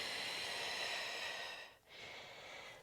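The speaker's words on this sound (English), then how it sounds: "exhale through the mouth" A single slow exhale through the mouth during a pregnancy yoga breathing exercise, a soft airy breath close to the mic, easing off briefly before the airflow continues.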